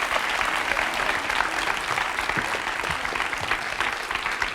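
Sustained applause from a studio audience at a French TV talk show, a steady dense wash of many hands clapping at moderate distance with no pauses.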